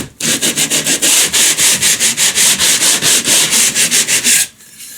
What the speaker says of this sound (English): it's got a mesh sanding thing on it for drywall